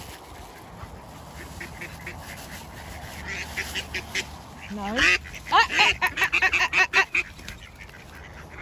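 Ducks and geese quacking and honking loudly in a burst of squabbling as they are fed seeds, with a person talking nearby amid the birds.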